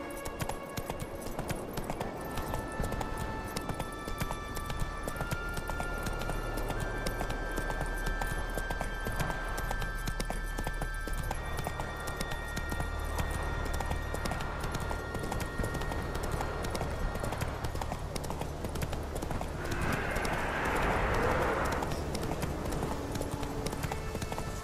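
Roach, the horse in Witcher 3, gallops with rapid, rhythmic hoofbeats that continue throughout under game music and ambience, loud and close, with a brief burst of noise near the end.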